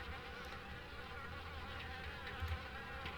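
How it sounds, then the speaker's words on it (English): Dense insect buzzing from a swarm of wasps filling kitchen cabinets in the Harvester video game, a steady, close drone with no talk over it. "From the sound of it, the cabinets are full of wasps."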